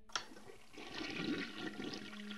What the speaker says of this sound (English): We need to flush toilet 6 times.